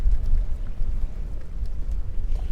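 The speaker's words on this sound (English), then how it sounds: "it's pretty darn windy out here" Strong wind buffeting a boat at sea, a continuous low rumbling roar with gusty surges pressing close to the microphone, no voices.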